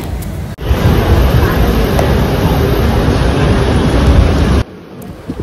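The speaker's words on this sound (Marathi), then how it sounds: "आणि आता ट्रेन सुटली इथून भाईंदर स्टेशनवरून।" A Bandra Vapi Express train pulls out of Bhayandar station with a loud, steady rushing roar of wind and rolling wheels. The roar lasts about four seconds and then cuts off abruptly.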